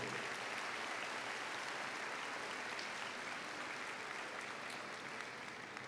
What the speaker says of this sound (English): Let's give our parents a big round of applause for all their support graduates.